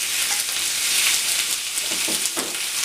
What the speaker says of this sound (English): Now on the other side of the pan, I'm going to put in my fish.